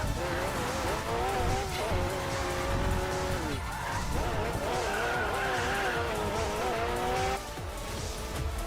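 A Toyota A80 Supra races the Nordschleife in the Racing Master video game, its engine droning and shifting pitch under continuous loud tire squeal and skidding, with someone talking over it.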